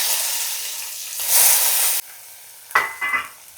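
Cumin and mustard seeds hit hot oil with a bright, steady sizzle that swells louder midway, then settles into a quieter hiss broken by a few sharp spattering pops near the end.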